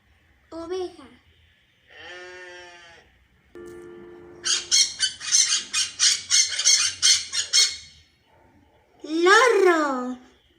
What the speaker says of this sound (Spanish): lorro